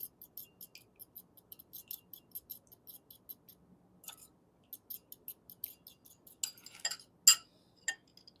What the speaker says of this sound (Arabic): دلوقتي انا جايب بيضه اهي مكسوره في طبق، وهنبتدي نضربها عشان نقلب الصفار مع البياض